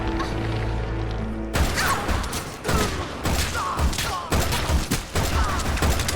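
Rapid bursts of gunfire from the video game Resident Evil Revelations 2, loud repeated volleys cracking in clusters after a low droning intro, with a voice talking over the shooting.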